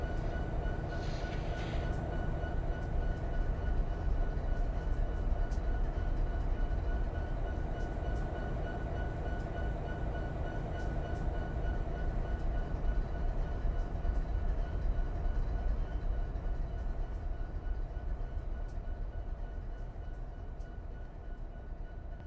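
Empty grain train rolling along in the Run 8 train simulator game, a continuous low rumble and clatter of wheels on rail with a faint tonal hum, steady throughout with no speech.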